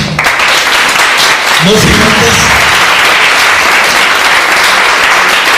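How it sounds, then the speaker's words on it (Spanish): Audience applause at a university conference on public policy and teacher evaluation in Mexico, a dense, steady round of clapping filling the room, with a voice speaking briefly over it. "Lo despedimos con un aplauso."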